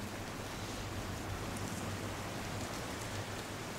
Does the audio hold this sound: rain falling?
yes